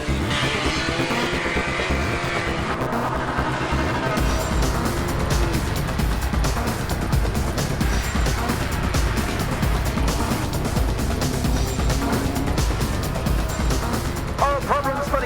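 A pack of race cars, led away by a classic Morris Marina pace car, roars off together in a loud, continuous rush of engines, with excited commentary running over the noise throughout.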